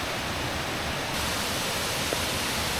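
A waterfall in Kamphaeng Phet, Thailand, on a rainy day gives a steady, close, unbroken roar of rushing water with no voices.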